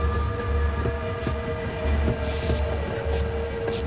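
A train rolls along the rails in the Half-Life video game, a steady low rumble with rhythmic clatter and faint metallic tones, continuous throughout with no talking.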